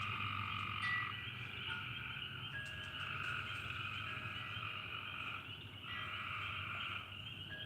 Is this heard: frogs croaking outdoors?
yes